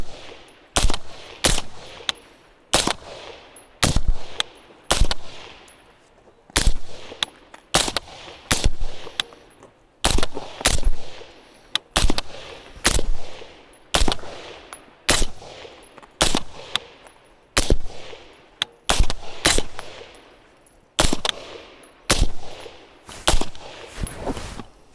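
Rifle fire from 5.56 and .30 caliber guns, shot in a head-to-head comparison: a long series of sharp, loud reports, singly and in quick bursts, each with a short echoing decay and no talking.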